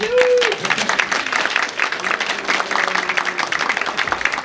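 An audience at a consulate anniversary event in Atlanta breaks into steady, sustained applause, the clapping dense and even throughout with a brief voice at the start.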